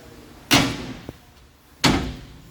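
Folding entry steps on a 2016 Heartland Big Horn 3160 fifth wheel RV swing in, making two sharp metallic clunks about a second apart with a small click between them, close up and with no talking.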